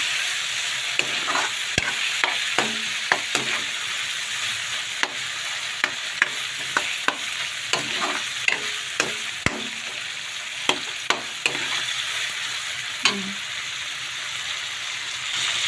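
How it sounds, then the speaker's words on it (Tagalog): Shrimp and pechay being stirred in a sizzling pan, with a steady frying hiss and a run of sharp spatula scrapes and clacks recurring every second or so, close and clear with no talking. "Haluin natin. Ito yung hipon."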